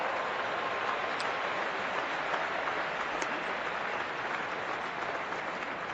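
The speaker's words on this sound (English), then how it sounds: "They cheer for anything, this crowd, though" Cricket crowd applauding and cheering after a batter takes a single, a continuous broad roar of clapping from a large stadium audience, steady and fairly loud with no talk over it.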